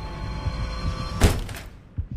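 A door shuts with one sharp, fairly loud thud midway through the scene of a horror video game, followed by a couple of softer knocks as the ambient hum drops away.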